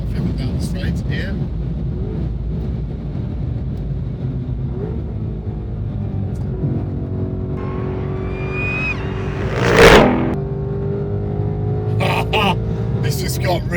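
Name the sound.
Ford Mustang GTD accelerating down the track straight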